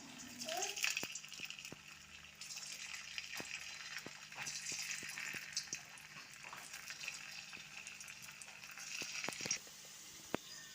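Potato sticks sizzle in hot oil for French fries, a steady faint hiss and bubbling crackle with scattered sharp pops, heard close up and without speech.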